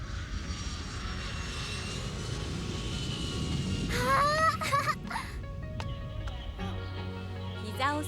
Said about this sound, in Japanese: ママ、ほら飛行機。